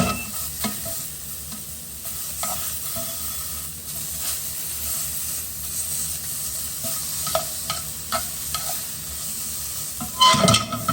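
Tuna sears in a hot pan with a steady hissing sizzle that runs throughout, joined by scattered clinks and scrapes and a louder burst of spitting near the end.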